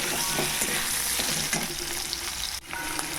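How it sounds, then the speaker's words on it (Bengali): Potato and kohlrabi pieces sizzle and crackle as they fry in leftover fish-frying oil, a steady close hiss broken by occasional stirring clinks, with no voices. "এই যে আলুটা আর আমি ওলকপিটা ভাজছি"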